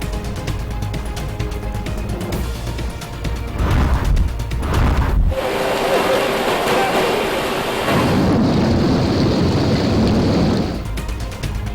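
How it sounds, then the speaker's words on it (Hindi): Rain and thunder during widespread rainfall in Balochistan, Pakistan: steady downpour hiss with loud rumbling crashes, heavy throughout and swelling in the latter half, with no voices. "मुल्क के बेशतर हिस्सों में बारिश का सिलसिला जारी"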